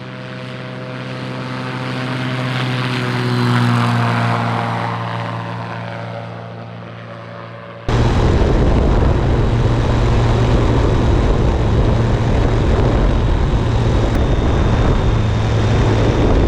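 A powered hang glider's propeller engine builds to a droning climb that swells and fades, then cuts to a loud, steady close-up engine roar with wind rush during takeoff.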